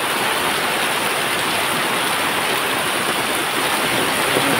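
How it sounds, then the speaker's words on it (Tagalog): Floodwater from heavy rain rushes in a steady, dense roar past submerged houses and an overflowing bridge, loud and continuous with no pauses. "Laki na ng baha dito sa amin."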